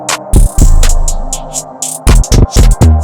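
A beat melody pitched down an octave with the Waves Sound Shifter plugin: low, heavy thumps and a dark, smeared tone hit loud in uneven bursts with a sustained drone between them.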